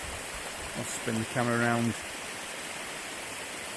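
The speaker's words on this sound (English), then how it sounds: "I've got this awesome waterfall feature." Waterfall at the foot of Crowden Tower, a steady broadband rush of falling water filling the whole clip, with someone speaking briefly over it.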